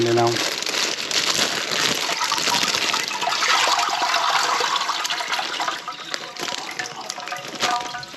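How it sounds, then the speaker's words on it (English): Water gushes steadily into a container to rinse out sand and grit. A loud, continuous rushing and splashing lasts about eight seconds and eases slightly near the end. "Put all that water in there"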